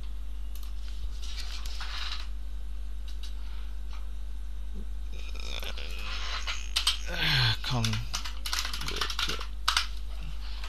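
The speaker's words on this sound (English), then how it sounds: "IBM M keyboard." Keys clatter on an IBM Model M keyboard in bursts of clicky typing at moderate distance, broken by pauses, with a steady low electrical hum beneath and brief muffled talk partway through.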